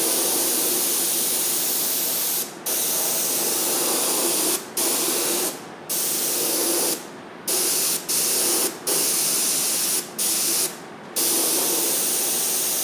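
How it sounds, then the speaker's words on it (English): An airbrush set for a heavy spray lays paint along the waterline of an RC submarine, giving a steady close hiss in repeated bursts broken by brief pauses as the trigger is released. "I've adjusted my airbrush for a fairly hefty"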